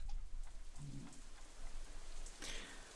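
Light rain falls steadily in the visual novel Katawa Shoujo, a soft continuous patter and hiss with a faint low hum beneath and a brief brighter swell of drops near the end.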